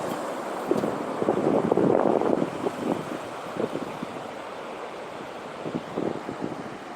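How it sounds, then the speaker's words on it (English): Night-time ocean waves on a beach: a broad roar of surf swelling and washing in, loudest early then settling into softer churning, with steady wind buffeting the microphone. "I groove on the sound of the waves."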